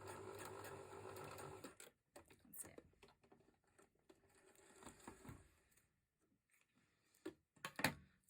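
A domestic sewing machine stitches elastic into a jumper sleeve in several short runs, rattling bursts broken by pauses and handling noises, fairly close and moderately loud.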